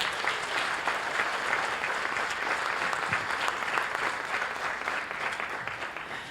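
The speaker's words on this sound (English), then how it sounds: "So please give them an applause." Warm, sustained applause from a conference audience for the organizers at an opening ceremony, dense even clapping from a sizable room that tapers slightly at the close.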